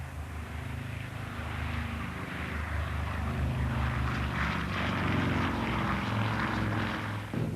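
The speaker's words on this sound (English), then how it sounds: "a B-29 named Enola Gay, after the captain's mother, took off from the Mariana Islands" A B-29 bomber's propeller engines drone in a steady, loud, low roar that swells slightly as it continues, with no voices over it.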